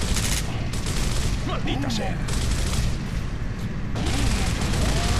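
Dense, continuous gunfire from a Gears of War co-op match, loud bursts and sustained fusillade with booms, running throughout while a player shouts over it.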